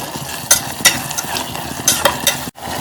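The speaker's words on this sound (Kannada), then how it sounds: "ಈಗ ನಾನು ಮೊದಲಿಗೆ ಮೆಂತ್ಯ ಸೊಪ್ಪು ಹಾಕ್ತೀನಿ, ಆಮೇಲೆ ಸಬ್ಸಿಗೆ ಸೊಪ್ಪು ಹಾಕ್ತೀನಿ, ಆಮೇಲೆ ಕೊತ್ತಂಬರಿ ಸೊಪ್ಪು ಮತ್ತು ಪುದೀನ ಸೊಪ್ಪು ಅದೆಲ್ಲ ಹಾಕಿ ಚೆನ್ನಾಗಿ ಫ್ರೈ ಮಾಡಬೇಕು" Fenugreek, dill, coriander and mint leaves fry and get stirred in a pan for mutton biryani, with a steady sizzle broken by a few sharp scraping clatters of a spoon on the pan, ending in a brief cut.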